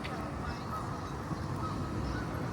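Ducks call with honking quacks close by on the river Main in Frankfurt, over a continuous rushing background.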